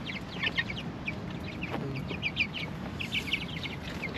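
Backyard chickens cluck in short, scattered bursts at a moderate distance over a steady background hiss, with no voices.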